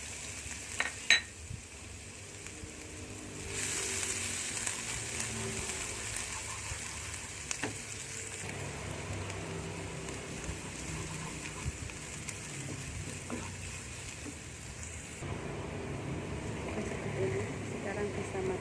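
Garlic stir-fries in a little hot oil in a Teflon pan, giving a soft, continuous sizzle with occasional light clinks of a utensil, while a person talks over it.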